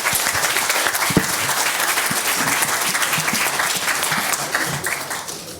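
An audience at a cloud native tech meetup session claps in dense, loud applause that holds steady and then starts to fade at the end.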